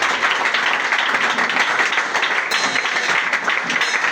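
A church congregation applauding during a prayer service, dense continuous clapping that holds steady and loud throughout, with no voice standing out above it.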